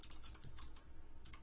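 Rapid typing on a computer keyboard during a Linux install, a quick run of soft, close key clicks with a brief pause partway through.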